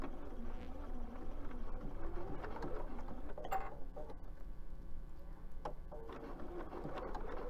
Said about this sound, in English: we're just going to sew right along the edge of our little handle